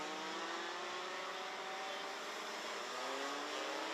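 Race cars cornering through turns 3, 4 and 5 of a circuit, drivers correcting oversteer: a continuous engine roar with rising and falling pitch fills the whole stretch, steady and fairly loud.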